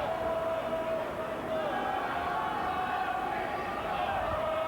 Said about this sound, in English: And the crowd starting to sing again, trying to G these lads up.